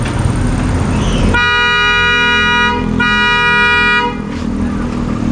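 A car horn blares in one long sustained honk, briefly dipping before continuing, loud and close over a background of road noise.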